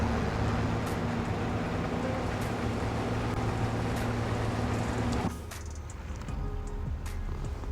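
Combine harvester engine in the mobile video game Farming Simulator 23, a steady loud machine drone with broadband noise that drops abruptly to a quieter idle hum partway through, no talking over it.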